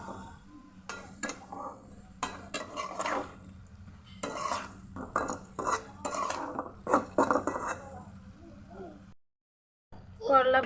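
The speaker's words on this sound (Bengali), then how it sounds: "করলা ভাজিটা আমি এখন নেড়ে দিচ্ছি।" A spatula stirs bitter gourd fry in a pan, producing a series of clattering scrapes and knocks in irregular bursts, with a brief pause near the end and little audible sizzle.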